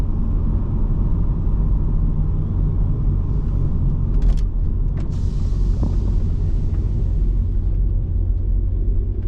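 An M113 armored personnel carrier engine runs loud and close while the vehicle drives back and forth, a steady deep rumble that keeps going with a few brief clanks and rattles over it.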